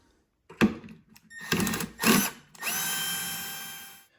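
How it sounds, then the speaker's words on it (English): A power driver removing T20 Torx screws from an EGO PH1400 multi head, with several short whirring bursts separated by pauses, then one longer sustained whine, close and loud with no talking. "Disassembly starts by removing a whole bunch of these T20 torque screws."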